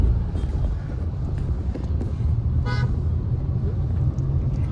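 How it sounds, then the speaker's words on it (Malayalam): A short car horn toots once over steady traffic rumble and wind noise outdoors on a road in Kannur, Kerala. "ഹോണടിക്കുന്നുണ്ട്"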